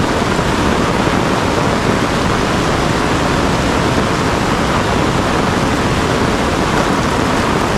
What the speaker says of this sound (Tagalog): malakas na yung tubig dahil nag-ipon-ipon na yung mga maliit na sapa